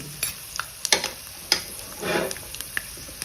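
Sesame seeds and cumin hitting hot oil in a pan for a Kolhapuri chilli thecha, giving scattered sharp crackles and pops over a light sizzle, with a brief louder burst of frying near the middle, close by.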